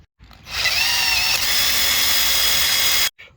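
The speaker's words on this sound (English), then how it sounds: "2 holes are now drilled into the bracket" A power drill bores holes into a metal tarp bracket on a dump trailer, a loud, close, continuous grinding whine lasting nearly three seconds before cutting off abruptly.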